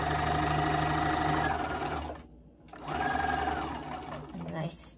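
A sewing machine stitches down a tie on a wheelchair pocket bag. Its motor hums loud and close in two runs with a short pause between them, then slows near the end.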